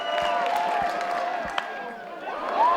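Baseball crowd at Greenville during a UNCW versus ECU college game, a moderate spread of cheering and applause that dips midway and swells again near the end, heard from the broadcast position.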